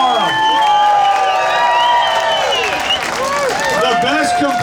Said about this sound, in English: how about a big round of applause for all these pilots?